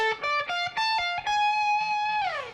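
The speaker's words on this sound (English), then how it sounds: "And then you got a sweep in there that sounds like this" Distorted electric guitar rips through a fast sweep-picked run of separate notes, landing on a sustained note that bends downward at the end.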